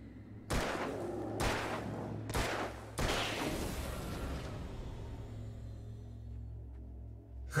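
Four sharp bursts of gunfire from the video game Alan Wake crack out in quick succession, the last one trailing into a long rumbling decay as the sound fades away.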